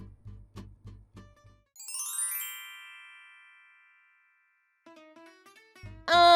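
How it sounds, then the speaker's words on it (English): A two-tone chime rings out and decays slowly, followed by a short series of electronic tones; low thumping sounds come before and after. "You can hear the doorbell"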